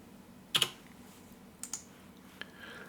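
Keyboard typing while entering a 4-inch dimension for a 3D-printed magnetic hose connector design, heard as a few sparse, quiet clicks: a close double tap, another pair a second later, then a single faint tap over low room noise.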